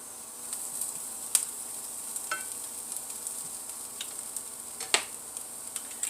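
Eggs frying in a hot pan give a steady, faint sizzling hiss, punctuated by a few sharp clicks of a utensil against the pan, close and without talk.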